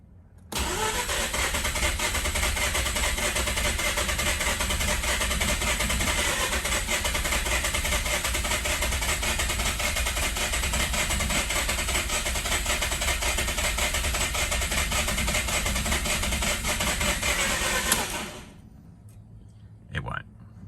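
A Mazda RX-8 13B rotary engine, hot and with low compression, cranks continuously for about eighteen seconds, a steady loud mechanical churn that never catches, then stops abruptly.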